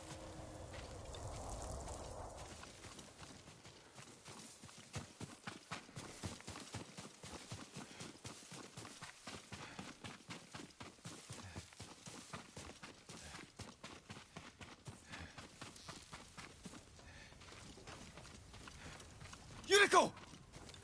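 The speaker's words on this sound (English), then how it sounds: "Yuriko's horse." A horse's hooves clip-clop in a steady trotting rhythm in Ghost of Tsushima, faint and continuous, with a brief voice at the start and a short sharp sound near the end.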